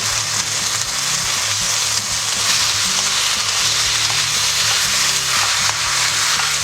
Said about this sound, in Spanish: y unos pocos de copos de chile. Vamos que se tuesten un pelín.